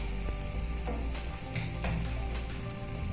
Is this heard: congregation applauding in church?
no